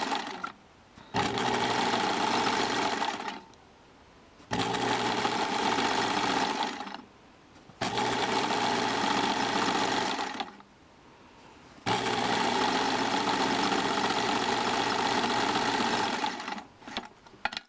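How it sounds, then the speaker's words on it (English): A sewing machine runs a zigzag stitch along a fabric edge in three long bursts of rapid, steady whirring. Brief pauses separate the bursts, and the machine sounds close with no talking. "use the same zigzag stitch half on and half off across this top edge like this, all the way to the other side."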